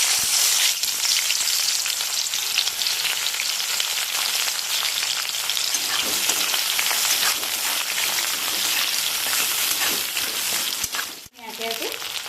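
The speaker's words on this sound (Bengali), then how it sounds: "এবারে ফোড়নে দিয়ে দেবো আমি পেঁয়াজ" Onion sliding into hot oil for tempering a cauliflower and potato dish, giving a loud, steady sizzle and crackle that fills the whole stretch and briefly dips near the end.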